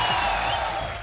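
Studio audience applause on a Hindi comedy talk show, a brief dense wash of clapping and crowd noise held steady at full volume.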